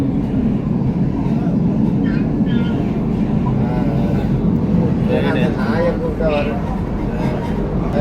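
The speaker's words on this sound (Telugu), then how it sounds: "సో బట్టు కేవ్స్ నుంచి ట్రైన్లో కౌలాలంపూర్ వెళ్తాం." Steady rumble of a commuter train running from Batu Caves to Kuala Lumpur, a continuous loud rolling drone with rattling carriage noise throughout and people talking over it.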